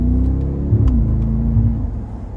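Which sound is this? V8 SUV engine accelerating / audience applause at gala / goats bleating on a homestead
V8 SUV engine accelerating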